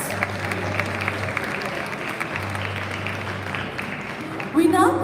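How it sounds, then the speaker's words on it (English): Students and families at a school annual prize day for grades 10 and 12 applaud a prize winner with a steady wash of clapping over a low hum, and a voice cuts in just at the end. "Please give her a huge round of applause on her commendable performance."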